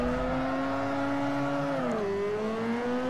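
Mazda RX-8 racing car in Forza Motorsport 4, engine holding a steady high drone that dips in pitch partway through as it shifts, then carries on, continuous and close.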